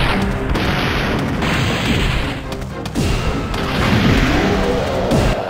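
Rocket explosions in Resident Evil 3 Nemesis, a run of heavy booms and crashes over continuous loud game noise, with several distinct impacts across the stretch and no voice audible.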